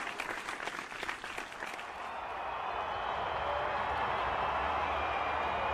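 A cricket crowd at a T20 World Cup match between Pakistan and Australia applauds after a big hit, a sustained roar of many clapping hands that starts ragged and swells into a steady, broad wash.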